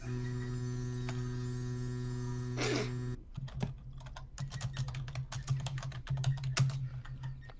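Rapid typing on a computer keyboard, close and crisp clicks in an uneven rhythm, following a steady electrical hum that cuts off.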